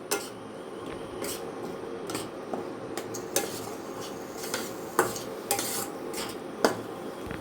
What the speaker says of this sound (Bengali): এবার এই জলের মধ্যে সুজিটা দিয়ে দেবো। দিয়ে সুন্দর করে নাড়ব।